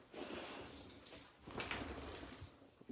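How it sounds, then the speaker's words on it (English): A dog whimpers and yips softly at close range indoors, in short uneven bursts over a low background. "That's my dog, by the way."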